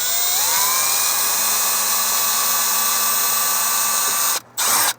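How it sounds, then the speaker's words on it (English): A power drill fitted with a tiny bit in a mini adapter bores a mounting hole for a rear-facing camera, a loud steady high whine that rises as it spins up, then cuts out and briefly restarts at the end. "now I can put that little tiny drill bit in my drill, and it chucks up nice and securely. Now I can drill this other mounting hole."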